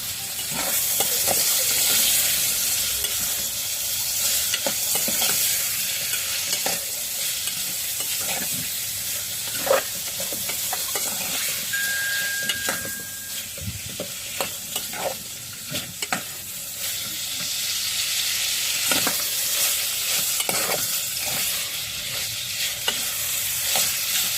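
Food is stirred in a hot pan, a loud continuous sizzle and steamy hiss broken by repeated scraping and knocking strokes of a utensil, steady and close with no talking.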